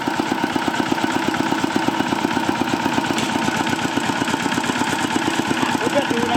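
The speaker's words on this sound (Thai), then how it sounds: "มาดูครับ การทำงานของจริงเลยรถไถเล็ก รถไถจิ๋ว" A homemade mini tractor's small engine runs steadily with a rapid, even chugging beat, close and loud, continuing throughout.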